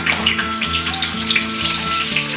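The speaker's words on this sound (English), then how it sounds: "I'm going to throw the sausage in there." Sausage sizzles in a hot frying pan, a close, continuous crackle of popping fat and spattering bursts with a low steady hiss underneath, no voices.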